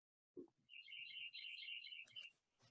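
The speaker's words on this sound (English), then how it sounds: "I think we may be even hearing some birds in your background" Birds chirp outdoors on a campus, a quick run of bright, rapid tweets in a steady trill that ends in a few sharper calls, fairly faint against a quiet background with no talking.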